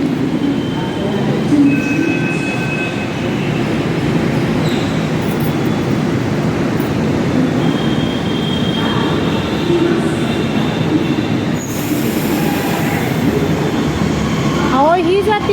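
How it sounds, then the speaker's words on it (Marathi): A metro train arrives at a station platform, rumbling steadily with a broad mechanical roar, brief whistling squeals and a chime near the end, while voices talk nearby. "पलीकडची मेट्रो येते"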